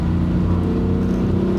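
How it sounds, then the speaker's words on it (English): A BMW M3 F80 with a Burger Tuning JB4 tune drones through its exhaust set to loud mode, a steady deep rumble held close and loud without a break. "Could turn the exhaust down a little quieter, but why would you?"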